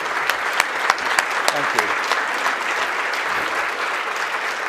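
Lecture audience clapping steadily throughout, a dense and sustained round of applause with a brief spoken thanks over it.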